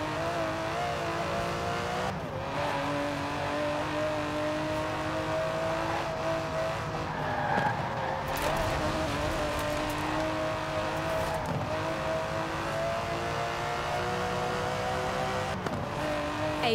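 Aston Martin DB11 with a 5.2-litre twin-turbo V12 in the racing game Forza Horizon 4, the engine droning steadily and loudly throughout with shifting pitch as it accelerates, plus brief tire noise.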